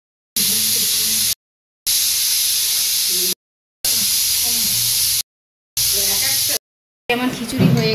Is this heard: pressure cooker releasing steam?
yes